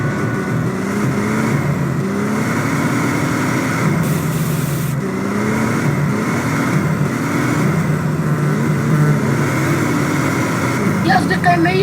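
A Chevrolet Silverado's car engine in GTA San Andreas hums and revs in repeated rising sweeps, loud and continuous, with someone talking over it.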